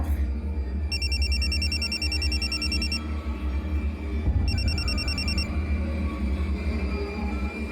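A phone rings in two bursts of electronic trills, the first longer, over a steady low rumble of background noise.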